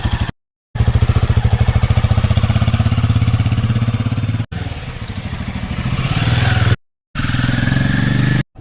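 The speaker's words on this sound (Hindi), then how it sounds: "हमने बाइक को कोल्ड स्टार्ट कर दिया है।" A motorcycle idles close by after a cold start on a morning in Almora, Uttarakhand, its engine putting out a loud, steady, throbbing chug broken by a few abrupt cuts.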